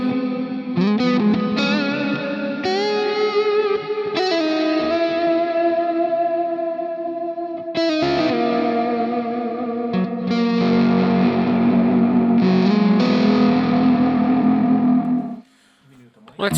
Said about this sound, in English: Let's play a little bit with the decay, just to give you the sensation of infinite reverb